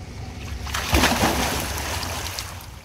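Water splashing in a swimming pool during a backstroke swimming lesson: a sudden splash and slosh near the start, then a churning wash that fades, with a hissy indoor-pool ambience and no clear talk.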